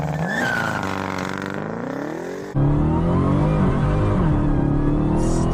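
A Dodge Demon muscle car launching hard on a runway, engine roaring with rising revs and tire noise, loud and close, jumping to an even louder full-throttle roar halfway through.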